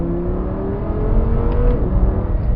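A 2014 Audi R8 V10 supercar in sport mode gives a loud, steady engine drone with a rising whine, heard close and continuous for a couple of seconds with no talking.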